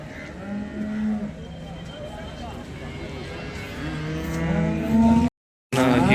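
A cow at the Sangola cattle market lets out long, low moos nearby, with people talking over the lowing and a brief cut near the end.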